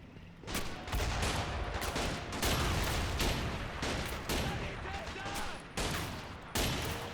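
SVD-40 rifle fire in a WWII battle across the ruins of Berlin, game audio: dense, loud overlapping gunshots crack in quick irregular bursts throughout, with heavier reports mixed into the din.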